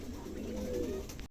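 Pom pigeons give a brief low coo at close range over a steady background hum, ending abruptly.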